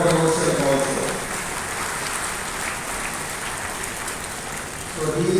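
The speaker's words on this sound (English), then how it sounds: "You can clap for him and clap for yourself also" A large audience at a university graduation ceremony claps in sustained, dense applause that fills the whole stretch, loud and steady, with faint voices underneath.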